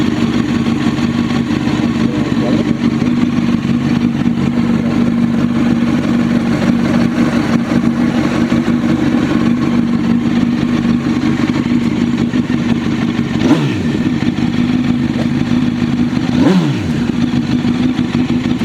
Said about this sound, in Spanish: que le dé a la llave y que le dé a arrancar sin usar el gas y la moto consiga mantenerse estable